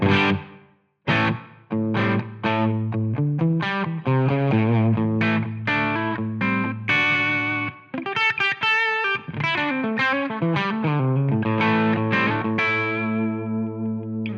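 An electric guitar plays a melodic phrase through a Line 6 Helix dynamic plate reverb that smears each note into a lingering shimmer.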